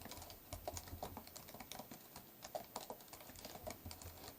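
Code is typed on a computer keyboard, a quick run of soft, uneven key clicks at close range and fairly quiet throughout, with no speech.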